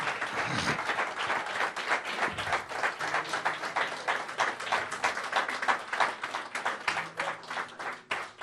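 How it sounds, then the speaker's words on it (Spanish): A church congregation claps steadily and loudly during a worship service, a dense wash of applause that continues throughout without pause. "Déselo fuerte el aplauso al Señor, claro que sí."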